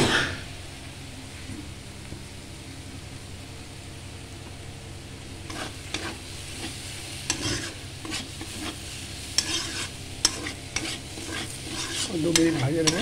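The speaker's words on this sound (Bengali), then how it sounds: "আর 2-3 মিনিট ভাজবো" Pitha filling frying and being stirred in a pan: a steady sizzle throughout, joined midway by repeated scraping, clattering stirs that grow busier toward the end, with no talk.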